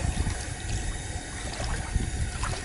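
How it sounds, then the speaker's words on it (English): Water pours steadily into a collapsible bucket holding a distiller coil, a continuous close rushing trickle with low gurgling underneath. "I am going to fill up water."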